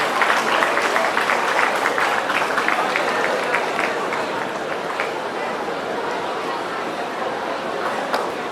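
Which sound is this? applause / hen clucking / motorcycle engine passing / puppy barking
applause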